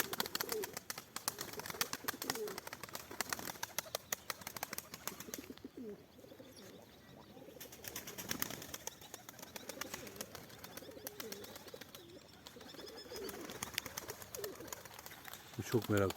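Young pigeons coo in soft repeated murmurs close by, mixed with rustling and shuffling, while someone talks intermittently over them.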